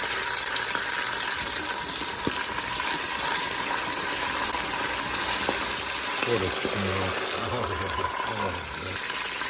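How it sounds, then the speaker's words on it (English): Garlic and fresh basil sizzle in a pan of marinara sauce for spicy shrimp marinara, a loud, steady frying hiss throughout with a few soft clatters of stirring near the end. "All right, we're gonna throw in our fresh basil. Beautiful. The garlic's gonna pop."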